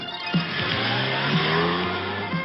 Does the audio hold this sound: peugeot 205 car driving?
yes